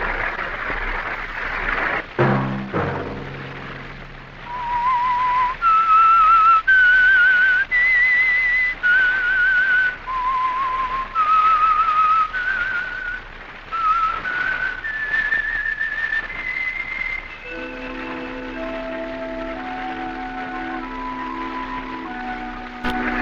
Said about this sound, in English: Let that whistle be your signal for the Whistler each Sunday night at this same time.